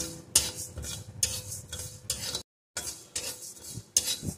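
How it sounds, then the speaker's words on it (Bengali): Gobindobhog rice and whole cumin seeds dry-roasting in a pan, with a steady scraping stir and light clinks of a spoon against metal, broken by one brief pause, close and moderately quiet. "এখন এই জিরেটাও চালের সাথে একটু ভেজে নেব"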